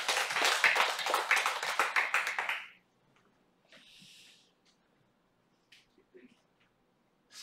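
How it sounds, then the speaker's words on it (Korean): A church congregation claps in a brief burst of loud, rhythmic clapping that stops abruptly, followed by near silence with a few faint noises. "하나님께 영광의 박수하겠습니다"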